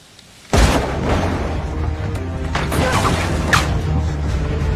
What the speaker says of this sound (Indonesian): Naas, Meyer harus tewas di tempat setelah Yas menembaknya di bagian vital